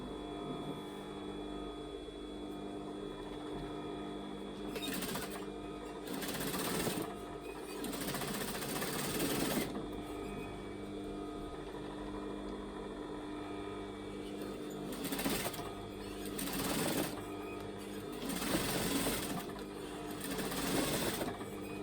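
A sewing machine stitches pyjama fabric in repeated bursts, each a few seconds of steady whirring chatter separated by short pauses, fairly close and moderately loud, with no talk.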